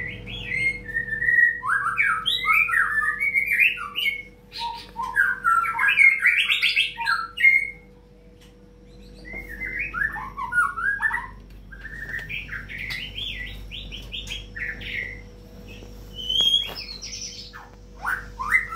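A large-bodied, long-tailed caged songbird delivers loud, close bursts of varied whistles, chirps and squawky notes, pausing briefly between phrases, with no voices.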